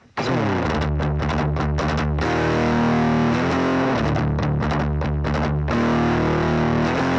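Heavily distorted electric guitar through an amp simulator, chugging and ringing chords, loud and continuous with a thick, saturated tone and brief palm-muted stops.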